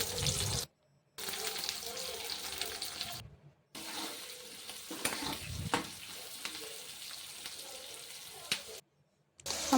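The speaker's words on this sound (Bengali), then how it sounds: "পেঁয়াজ এগুলো ভেজে নিচ্ছি" Onions fry in oil in a pan for a chili chicken dinner, giving a steady, close broadband sizzle with stirring clatter, broken by a few brief silent gaps.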